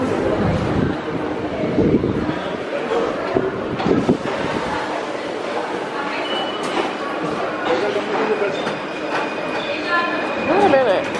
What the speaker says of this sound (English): I'm taking the train all the time.